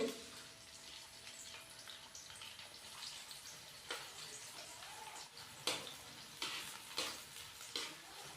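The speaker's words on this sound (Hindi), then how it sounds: "तो घी हमारा माशाल्लाह से गर्म हो चुका है। अभी हम इसके अंदर 2 से 3 अदद नॉर्मल साइज के प्याज बारीक कटे हुए ये डालेंगे।" Finely chopped onions sizzle quietly in hot ghee for aloo dum biryani, a steady hiss broken by a few sharper bursts of spattering and stirring.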